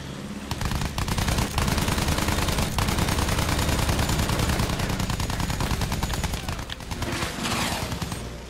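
Sustained automatic gunfire in the Battlefield 1 video game during a fight with German soldiers, dense rapid bursts and shots continuing loud and steady throughout.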